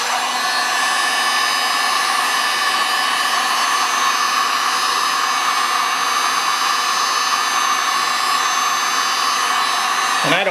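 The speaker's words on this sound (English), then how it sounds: "when I start hitting it with the heat gun, it's going to move around a lot easier and a lot quicker" Heat gun blows a steady, loud airy whoosh over poured art resin, unbroken for about ten seconds before cutting off at the end.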